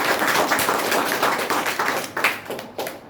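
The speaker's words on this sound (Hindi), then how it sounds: "तो जम के ताली बजाइए" An audience claps together in a dense, steady burst of applause for about three seconds, fairly loud and close, with no voices over it.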